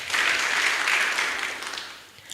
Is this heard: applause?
yes